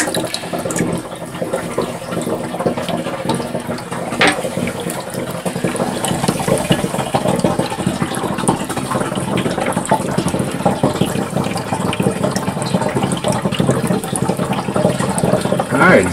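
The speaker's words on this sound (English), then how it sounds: "So I'm going to fill this sink up a couple more times, get some water level in here" Water running steadily into a sink inside a DIY travel trailer, a continuous splashing, gurgling flow heard close for the whole stretch.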